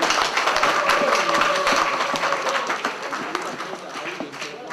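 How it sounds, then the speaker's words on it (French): A crowd claps steadily throughout at a high school gala evening in Cameroon, a dense patter of many hands that tapers slightly toward the end. "Applaudissons s'il vous plaît."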